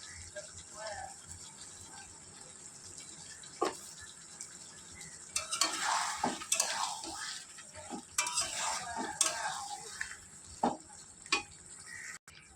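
Ginger paste and cumin powder fry in a pan for a prawn dish, with a low sizzle under intermittent spatula scrapes and clinks that grow busier midway, while a voice talks over it.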